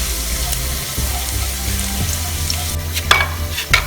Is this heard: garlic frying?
yes